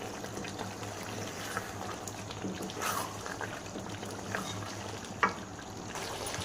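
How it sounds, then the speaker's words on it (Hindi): Beef pieces cooking bhuna-style in a kadai give a moderate, steady bubbling sizzle with occasional soft clinks and spatters. "इधर सारा गोश्त हमने इस कढ़ाई में डाल दिया है। तो इसकी हम 4 से 5 मिनट तक भुनाई करेंगे।"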